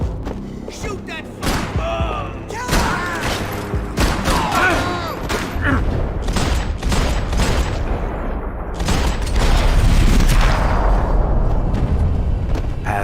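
Dense gunfire from Max Payne 3: rapid bursts and heavy booms crackle throughout, loud and close, with voices shouting over the shooting in a chaotic firefight.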